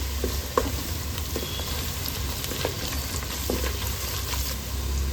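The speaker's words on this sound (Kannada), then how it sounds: "ಎರಡರಕ್ಕೆಯಷ್ಟು ಕರಿಬೇವು ಸೊಪ್ಪನ್ನು ಸೇರಿಸ್ಕೊಳ್ತಾ ಇದ್ದೀನಿ" Curry leaves dropped into hot oil with frying onions for a king fish curry, giving a steady, dense sizzle with faint stirring scrapes throughout, close and continuous.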